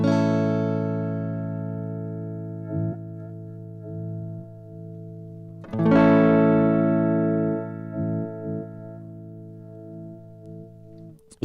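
An electric guitar runs through a high band filter in the Woodvalvet tube saturator iOS app, sounding sustained, harmonically rich chords, with a second strum near the middle and no talk.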